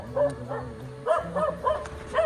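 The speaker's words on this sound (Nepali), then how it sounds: "कुकुरले भन्यो" A dog barks and yips in several short bursts, close by, during a walk on a stony path in the Helambu hills of Nepal.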